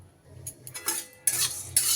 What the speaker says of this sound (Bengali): সব মশলাগুলো আমি এবার একটু শুকনো খোলায় নাড়িয়ে চাড়িয়ে ভেজে নেব